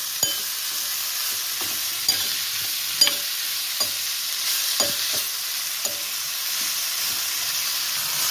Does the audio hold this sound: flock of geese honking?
no